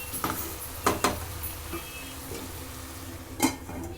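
Potato and spinach bhaji is stirred in a pan with a spoon, giving a few distinct scraping clinks over a soft background sizzle.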